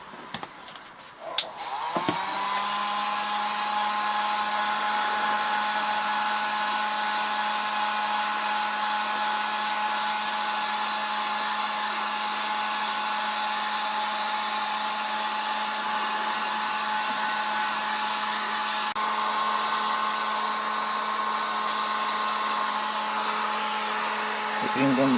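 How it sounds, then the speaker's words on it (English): Heat gun on its low setting warming the mirror assembly of a 2012 Mazda 5, a steady close-up blowing whir with a faint tonal hum that starts after a brief click and runs unbroken to the end. "you just need to heat it up a little bit with a heat gun on a low"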